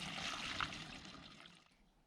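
A quiet, steady trickle of rust-removal liquid draining from a Motobécane moped fuel tank, thinning out and fading toward the end.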